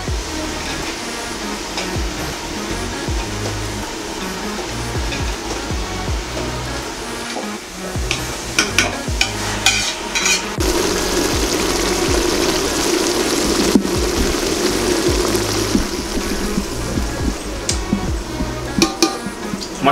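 Mushrooms for a biryani sizzle and fry in a pot, a steady hiss with scraping stir strokes that grows busier and louder partway through, heard alone without talk.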